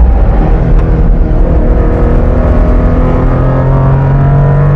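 A 1992 Honda Beat's small engine drones loudly and climbs steadily in pitch as it accelerates, close and continuous.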